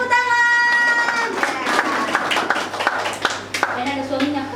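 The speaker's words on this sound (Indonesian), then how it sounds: "ada Kak Wida, tepuk tangan" Children and adults at an Indonesian Sunday school worship service clap their hands over music, the applause building as a held musical chord fades, with crowd voices mixed in.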